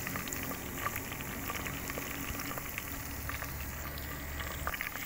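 Onions cook in a pot with a soft, steady bubbling and light sizzle, faint and continuous throughout with no voices.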